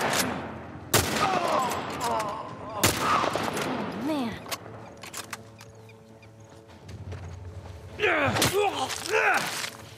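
Gunfire in The Last of Us Part 1 on PS5, with sharp shots near 1 and 3 seconds and another burst around 8 seconds, each fairly loud and close, mixed with game ambience and voice-like effects between them.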